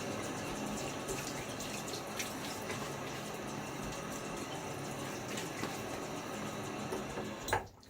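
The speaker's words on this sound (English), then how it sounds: "I'm going to splash my face with water." A tap runs into a bathroom sink while someone splashes their face with cool, soft water before a shave, a steady close rush of water with small splashes throughout and a brief louder splash near the end.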